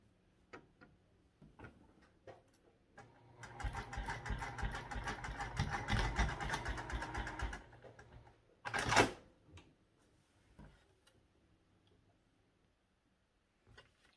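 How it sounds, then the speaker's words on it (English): A sewing machine stitches a backpack gusset seam in a quiet room, running in a rapid, steady mechanical whir for several seconds, then stopping, followed by a brief louder burst and faint handling clicks. "We'll be sewing this one at 3/8 inch seam allowance"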